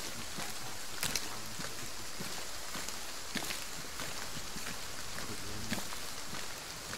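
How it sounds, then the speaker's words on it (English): Rain in the video game Operation Tarnation, a steady hiss of falling drops with a few soft taps and thuds over it, even and continuous at a moderate level. "Rain drops in my eyes."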